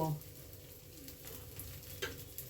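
Paddu made from rice batter cooking in a little oil in a pan, a soft steady sizzle with faint crackles, quiet and close.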